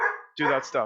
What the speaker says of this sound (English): Excuse the dogs in the background